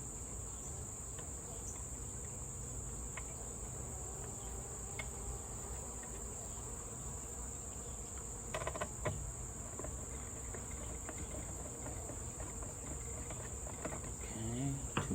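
Honey bees buzzing around an outdoor bird feeder, a steady, faint insect drone over quiet outdoor ambience, with a few small knocks and rustles near the end.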